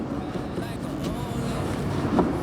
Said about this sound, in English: Sorry about the plane, but we're outside